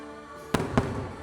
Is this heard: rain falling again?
no